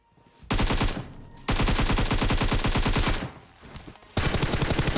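Rapid automatic gunfire in the PUBG video game, loud close bursts of fast repeated shots in three long strings separated by short pauses.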